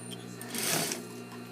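A sewing machine stitching a half-inch seam on a shirt-dress sleeve at 2.5 stitch length, a short swelling whir that peaks briefly and fades within about a second.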